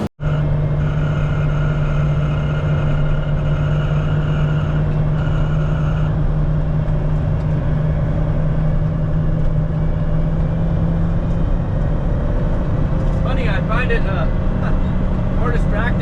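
A 1974 Kenworth logging truck engine drones loud and steady from inside the cab while driving, a deep continuous rumble with a strong low hum that shifts slightly in pitch toward the end.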